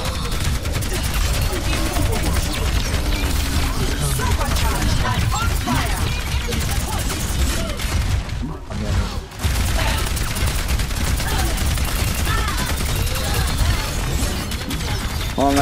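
Dense, rapid gunfire from the video game Overwatch hammers on loud and nearly nonstop, with overlapping bursts and a brief lull midway.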